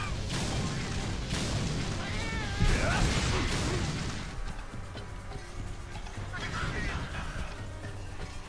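Cat companion in the online monster-hunting game Monster Hunter Online gives a brief meow amid loud battle noise, crashes and impacts, with someone talking throughout.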